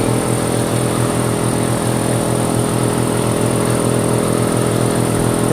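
A repaired air compressor running to build pressure: a steady, loud motor drone with a constant mechanical hum and whine, unbroken for several seconds, no voices over it.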